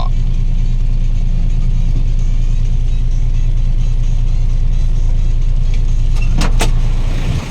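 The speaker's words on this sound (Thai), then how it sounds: "หลบทางให้กับรถน้ำมันนะครับ" A fuel tanker truck rolls past at a Thai filling station with a steady, loud low engine rumble that holds throughout, with a brief sharper rise near the end.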